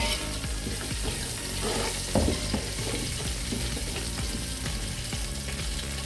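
Whole spices for lamb biryani, including bay leaf, cumin, cardamom pods, cloves and star anise, fry in a pot with a dense, continuous sizzle and crackle, broken by an occasional stirring clatter.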